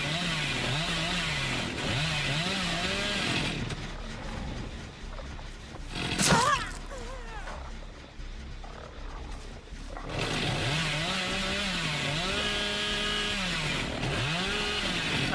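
Chainsaw in the video game Dead by Daylight, revving in wavering, droning bursts at the start and again near the end, with a quieter stretch and a sharp burst in between.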